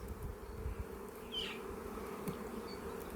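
Agitated honey bees at an opened hive drone in a faint, continuous buzz, with a few brief higher whines as individual bees pass close, under low outdoor background noise.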